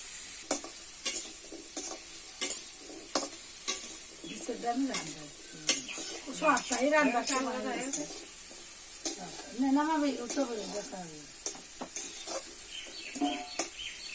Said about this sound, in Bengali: আলুটা ভেজে নিক